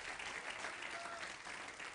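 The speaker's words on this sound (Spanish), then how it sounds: "Dele ese aplauso fuerte al Señor." Congregation applauding in a church during a sermon, a continuous faint wash of many hands clapping with no breaks.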